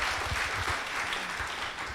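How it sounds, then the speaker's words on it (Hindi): An audience at a reception for a brand ambassador gives a short round of applause, steady, dense clapping with a low murmur underneath. "इनके लिए ताली तो बजाइए।"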